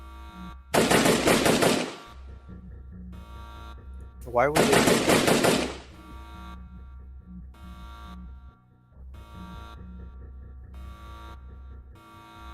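Two loud bursts of rapid AK-47 automatic gunfire, a sound effect, each lasting about a second, separated by a steady low hum; a voice briefly speaks between them.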